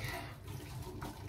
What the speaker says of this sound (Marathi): इकडे बटाटे बॉईल झाले आहेत तर त्यातलं पाणी ड्रेन करून घेते